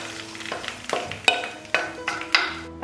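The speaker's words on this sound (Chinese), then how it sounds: "把酸菜倒到鱼里面" Pickled mustard greens are tipped into a pot of simmering fish belly for a Hakka sour-greens fish casserole, making a handful of soft wet plops and scrapes spaced through the moment over steady background music.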